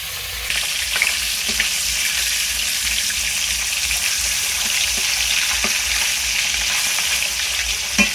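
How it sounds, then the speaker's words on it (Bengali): Small hilsa fish frying in hot oil in a pan, giving a steady, loud sizzle with occasional sharp pops and crackles throughout. "আর এদিকে মাছটাও ভাজা হয়ে যাচ্ছে"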